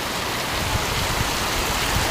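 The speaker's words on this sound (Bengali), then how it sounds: "কত বৃষ্টি হচ্ছে গাইস" Heavy rain pours down in a dense, unbroken hiss, loud and close, with no voices and no pauses.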